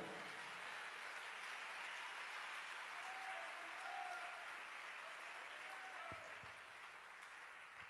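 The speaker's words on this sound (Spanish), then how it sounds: "Denle un fuerte aplauso al Señor en esta hora" Faint, steady applause fills a church congregation, a distant, continuous wash of clapping that never rises or breaks over the whole stretch.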